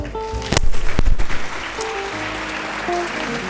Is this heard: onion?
no